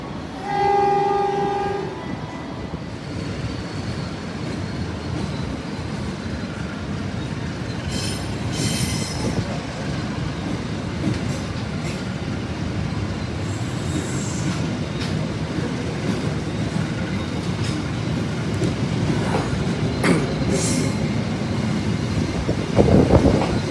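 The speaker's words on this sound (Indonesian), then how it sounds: "kereta api Bogowonto diberangkatkan kembali dari stasiun Kroya" The Bogowonto passenger train departing Kroya station rumbles along the rails with a steady low roar, metallic squeals and a brief horn-like tone near the start.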